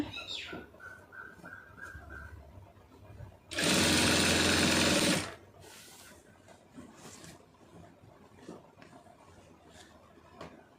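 A sewing machine stitches falls onto a saree in one loud, steady whirring burst of about two seconds, set among quieter handling noises.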